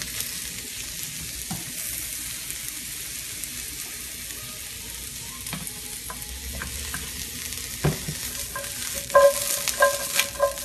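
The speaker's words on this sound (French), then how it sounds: "Tu vois, c'est le bruit qu'on veut entendre. Ça veut dire que les champignons commencent à rôtir, ils commencent à caraméliser." Mushrooms browning in a hot pan for a risotto, a steady bright sizzle and crackle throughout with a few stirring scrapes and clinks near the end.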